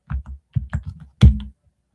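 Keystrokes on a brand new computer keyboard, a few quick bursts of close clacking followed by one louder, heavier key press, then quiet.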